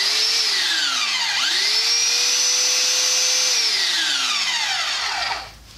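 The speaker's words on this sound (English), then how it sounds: "If you push the trigger button and push in on this button where my thumb is, that'll lock the sander on." Harbor Freight belt sander spinning up, running steadily with a high whining tone, briefly dipping and recovering in pitch twice, then winding down at the end; loud and close with no talking.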